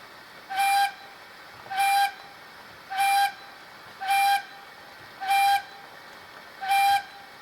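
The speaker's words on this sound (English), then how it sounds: "F2 short whistle, which on the Gauge Master controller doesn't lock" A model steam locomotive's sound decoder plays a short whistle six times in a row, each a brief bright toot at regular intervals over a faint steady hiss, with no talking.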